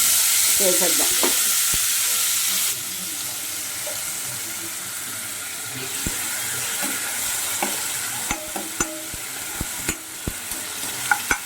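Tomatoes and vegetables for a potato and chickpea masala curry fry in a pan with a steady close sizzle, joined by scattered sharp spatula knocks and stirring clatter toward the end, with no talk.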